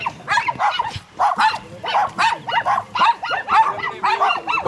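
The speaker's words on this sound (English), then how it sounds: "Pomeranians and Yorkshire Terriers up in the mountains" Pomeranian and Yorkshire Terrier dogs bark and yip up in the mountains in a rapid, overlapping volley of sharp, close barks that continues without a break.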